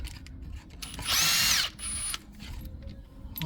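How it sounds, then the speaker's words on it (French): A power tool undoing two 8 mm screws on a Yamaha TMAX 560 scooter variator gives one loud, high whirring burst lasting about half a second, followed by a quieter spin and then workshop clatter. "là on va enlever les deux vis de 8."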